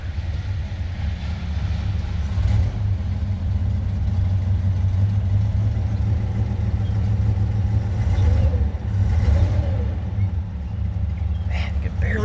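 A 1932 Buick Series 50 straight-eight with its original muffler idles steadily as a low, smooth, quiet rumble throughout, with people talking nearby.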